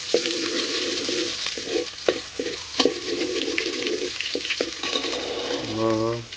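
Garlic dropped into hot oil in a heated pot sizzles loudly and steadily, broken by scraping and clinks of stirring, with a brief rising scrape near the end.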